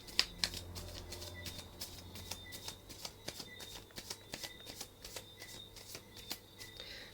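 Crystal affirmation cards shuffled by hand, a quick irregular run of crisp riffles and snapping flicks, close and fairly quiet, with no talking.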